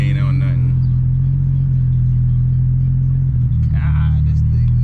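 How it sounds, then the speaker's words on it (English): A BMW M340i rumbles steadily while driving, its engine and exhaust a deep, loud drone with a couple of brief crackling bursts, as people talk over it. "Yo, my M340 look nice, man. Little popcorn maker."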